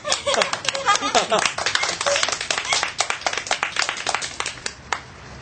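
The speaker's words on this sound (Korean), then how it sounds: "우리는 어른들을 따라 크게 손뼉을 쳤다" Many hands clap loudly together, adults joined by children, in a dense, irregular burst of sharp claps that carries on steadily for several seconds before thinning out near the end.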